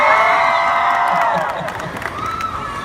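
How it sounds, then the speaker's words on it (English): A large convention crowd at Stan Lee's L.A. Comic Con in the Los Angeles Convention Center roars with cheers, whoops and applause. The sound is loud and sustained, then eases slightly toward the end. "So whenever we need applause, I'm just gonna say MCR and you can"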